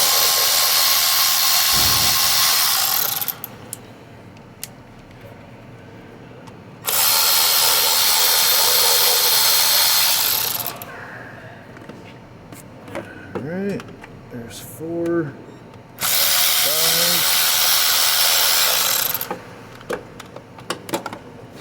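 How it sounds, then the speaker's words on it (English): Power tool removing bolts during a Honda Odyssey timing belt job: three loud, sustained high-pitched whirring bursts of several seconds each, with quieter clanks and brief tool sounds between them. "I'm gonna finish taking out all 7 of these bolts here"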